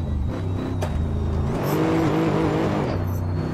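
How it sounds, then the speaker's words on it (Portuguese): A drifting car's engine revs hard while accelerating in the Assetto Corsa racing game. The loud, rising engine tone swells and falls, with a faint tire squeal in the middle. "Vai acelerar e o carro sai."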